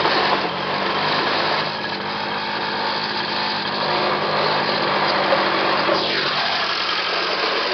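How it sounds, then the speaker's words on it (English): Cold pocket bike engine running after starting, a loud, steady, high-pitched small two-stroke buzz held close up, with slight dips and rises in revs. "So I'm gonna start it up right now"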